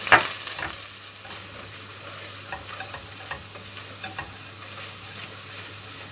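Flour and tomato paste sautéed in a pot for tomato soup, a low crackling sizzle with repeated spoon stirring and scraping, fairly close and quiet.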